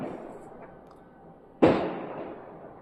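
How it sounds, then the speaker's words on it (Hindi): A single sharp firecracker bang bursts out in the distance after a stretch of quiet background hiss, then fades with a short echo. "आई डोंट नो किस लिए पटाखे फोड़ रहा है"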